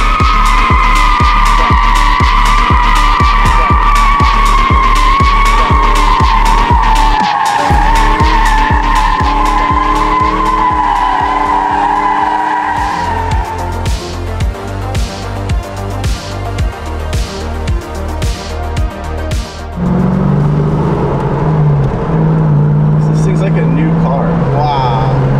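A 1989 Ford Mustang GT Fox Body drives on the road, its V8 rumbling with rhythmic pulsing and shifting revs, loud and close, with a voice talking over parts of it.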